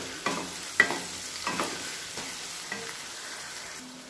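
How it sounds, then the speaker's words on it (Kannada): A spoon stirs salt through an onion and garlic uppitu mixture in a pan, with several distinct scraping strokes over a soft, steady sizzle, close by and with no voice. "ಉಪ್ಪು ಹಾಕ್ಬಿಟ್ಟು ಚೆನ್ನಾಗಿ ಮಿಕ್ಸ್ ಮಾಡ್ಕೋಬೇಕು."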